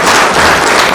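Audience applause at a Makerere University celebration: a brief, dense wash of many hands clapping, loud and steady throughout.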